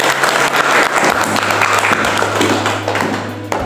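Audience applause at a book launch and review at a high school, a loud, dense burst of clapping from a crowd lasting under four seconds.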